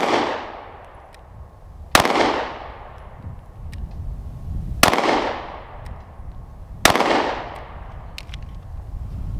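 A handgun fires at a target at an outdoor range: four sharp, loud shots spaced about two seconds apart, each followed by a short ringing decay.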